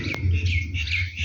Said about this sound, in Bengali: গিরিবাজ কবুতর। এদের উড়ন এবং বাজি খুব দুর্দান্ত।